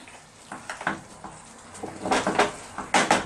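Chicken with tomatoes, basil, shallots and peppers gets stirred in a pot with a spoon, giving irregular scraping and clinking strokes over a soft sizzle, close by.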